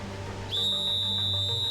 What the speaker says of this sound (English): Everyone wants to have the whistle